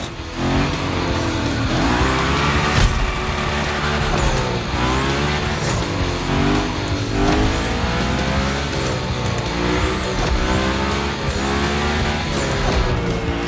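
A car drifts through a Gymkhana-style course in Forza Motorfest, its engine revving and rising in repeated surges while the tires squeal in long sliding screeches, loud and close throughout with no voices.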